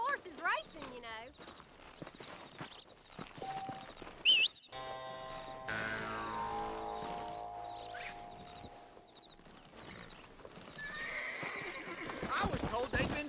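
Horses in the video game Red Dead Redemption: loud whinnies and neighs ring out alongside clip-clopping hooves in a busy town scene, with people talking over the animals.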